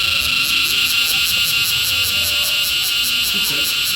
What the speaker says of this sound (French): Le bruit qu'on entendait tout à l'heure quand on était dans les tentes, c'était causé par une cigale